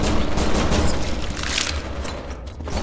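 Glock pistol fire in the cartoonish sewer shooter Rodent Retribution, a dense, continuous barrage of rapid gunshots, loud and close with no pauses.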